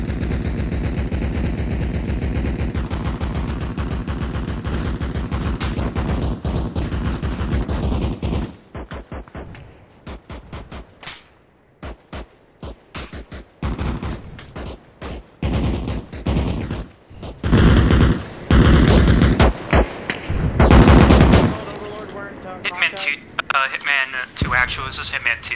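Sporadic gunfire with tracers in a military video game: rapid bursts of machine-gun fire come in clusters, loud and dense at first and then in shorter broken volleys, with radio-style voices talking over them.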